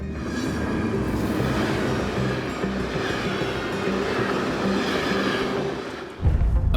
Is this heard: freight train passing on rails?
yes